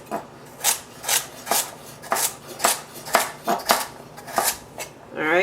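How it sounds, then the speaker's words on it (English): A knife cuts vegetables into quarters on a cutting board while making a breakfast pot pie. About a dozen steady, evenly spaced chops sound close and crisp. "I'm going to cut him into quarters, like so, kind of line them up"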